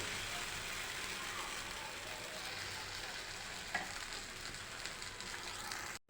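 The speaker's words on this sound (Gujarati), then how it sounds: "મીડિયમ ગેસની ફ્લેમ ઉપર આપણે ઉત્તપમ બનાવીશું બેટર લઈ લઈશું આવી રીતે ફેલાવી દઈશું" Methi rava uttapam batter sizzles on an oiled tawa over a medium gas flame, a steady, fairly quiet frying hiss that continues throughout with one small tap partway in.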